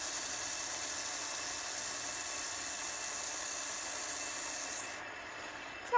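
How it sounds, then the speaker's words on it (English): A Phoenix fidget spinner whirring on its bearing, a faint, steady smooth hum that holds evenly for about five seconds, then fades as it slows, ending in a small click. "Give that a little spin."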